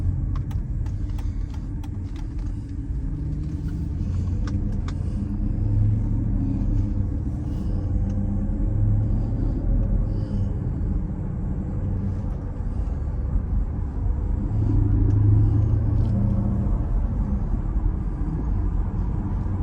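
A 2007 Mercedes SL550 with coilover suspension in place of its active body control cruises on the road, giving a steady low rumble of engine and tyre noise that swells slightly now and then, heard from inside the cabin with no talk.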